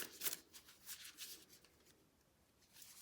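A quick, close burst of tarot cards being shuffled, papery riffling that fades into quiet after about a second and a half.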